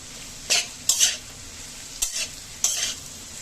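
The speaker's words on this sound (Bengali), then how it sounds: "ডিম আলু পেঁয়াজ এগুলো আমি একসাথে একবার ভেজে নেব" Eggs, potatoes and onions being stir-fried together in a pan, heard as four short scraping, sizzling bursts of spatula stirring against a quiet background.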